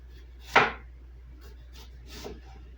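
An onion being sliced thinly with a knife, one crisp close chop followed by a fainter second cut about two seconds later on a quiet background.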